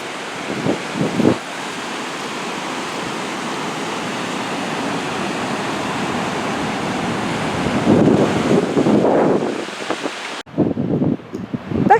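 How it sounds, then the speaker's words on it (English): Wind and surf at Geraldton's Mahomet's Beach Park in Western Australia, a steady broadband roar of waves with gusty wind buffeting the microphone, swelling louder near the end before briefly dropping away and returning. "Beach of Geraldton, also known as Mahomet's Beach Park."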